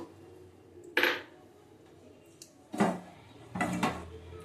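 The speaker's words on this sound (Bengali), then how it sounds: "দেখো এই থালাটা দিয়ে ঢেকেছি আমি" A metal plate set over a pot as a lid, three distinct clattering clanks at spaced intervals, close and crisp against a quiet room.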